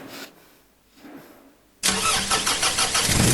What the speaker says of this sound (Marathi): झालं आता गाडी कशी चालू होते ती बघा